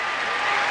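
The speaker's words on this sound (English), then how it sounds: "A loud cheer." A basketball arena crowd at an Indiana–Iowa college game lets out a loud, steady roar of cheering and applause, a dense wash of noise that carries on without a break.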